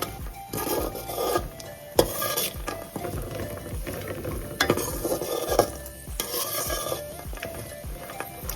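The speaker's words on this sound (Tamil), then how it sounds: "சக்கரை பொங்கலுக்கு நான் முந்திரியும் திராட்சையும் நெய்யில் வறுத்து எடுத்துக்கிறேங்க" Steady sizzling and crackling of cashews and raisins frying in hot ghee, with occasional scraping stirs of a spoon in the pan, close up and without talk.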